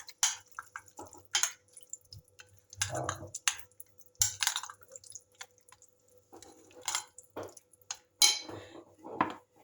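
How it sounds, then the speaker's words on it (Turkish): A spoon stirs yogurt into cooked spinach in a bowl for a carrot-spinach tarator, making close, irregular clinks and wet, soft squelches in short bursts. "Şöyle 3-4 kaşık yoğurt ekledim ve karıştırıyorum."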